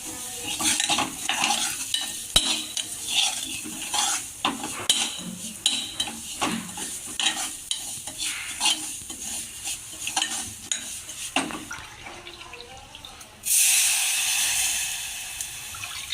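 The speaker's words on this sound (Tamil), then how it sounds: "தென் ரவை போட்டு கிண்ட விடணும்." Semolina with toasted almonds is stirred in a metal pan for rava kesari, with a spoon scraping and clinking steadily against the pan in quick repeated strokes, a light sizzle underneath and a louder burst of noise near the end.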